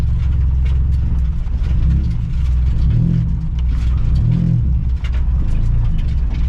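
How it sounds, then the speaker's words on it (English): A 1992 Honda Civic DX EG hatchback with a swapped H22A engine runs on a track, its engine droning loud and steady close by with slight rises and falls in pitch and no talk. "Just run the car."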